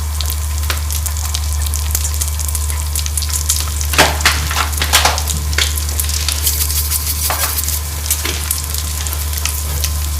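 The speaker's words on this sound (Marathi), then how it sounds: "आता मी कढीपत्त्याची फोडणी दिली आहे, आता पाहू शकता तुम्ही." Curry leaves and chili hit hot oil for a tempering while egg bhurji is being made, giving a loud, steady sizzle with sharp bursts of crackling and spitting. There is no talk.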